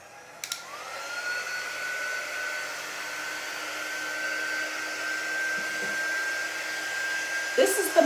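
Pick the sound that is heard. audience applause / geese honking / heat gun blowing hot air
heat gun blowing hot air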